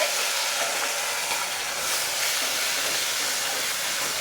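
A pressure cooker holding potatoes, radish, tomatoes and carrots lets off a steady, loud steam hiss for several seconds, with no talking.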